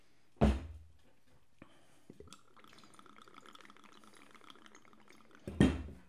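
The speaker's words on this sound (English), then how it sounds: "We're just going to give it just a little honey to sweeten it up." Honey drizzled into a New Orleans quarantini cocktail, a soft, faint trickle and drip lasting a few seconds between two louder knocks of glassware, with no voices.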